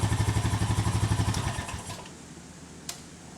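Engine of a 2007 Honda four-wheeler chugging in a fast, even pulsing rhythm, then shutting off and dying away, followed by quiet with a single small click.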